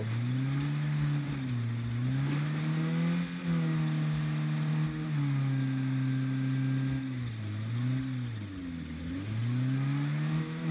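A small car's engine in a survival video game revs steadily, its low drone rising and falling in pitch for the whole stretch, close and loud with no talk over it.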